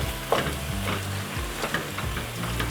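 Ground beef sizzles on direct heat in the middle of a soup pot beside vegetables, a steady close frying hiss with a few soft stirring scrapes and clicks.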